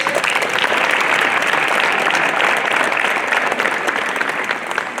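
Sustained, even applause from an audience after a youth group's performance at a launch event, a thick steady clatter of many hands kept up at full strength from start to finish.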